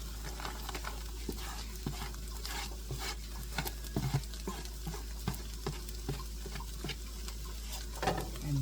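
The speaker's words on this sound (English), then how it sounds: "cabbage and carrots." Cabbage and carrots stir-fry with pork in a pan for egg rolls. A constant crackling sizzle plays under busy scraping and stirring, with frequent small clanks from the utensil against the pan and a low background hum.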